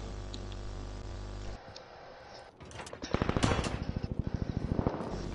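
Rapid automatic gunfire from enemies in the Warzone video game, a loud burst of evenly spaced shots in the second half after a quieter stretch of game noise, with no talk.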